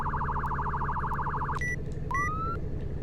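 Priority police siren in the Roblox game ER:LC, a rapid warbling trill pulsing for over a second over a low engine hum, then short beeps and a brief rising tone.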